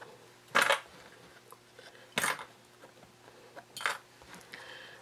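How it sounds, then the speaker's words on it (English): Sewing clips are pulled one by one off clear vinyl and a zipper, giving three sharp plastic clicks spaced about one and a half seconds apart, with faint small taps between them and no talk. "Now we can go ahead and remove all of our clips."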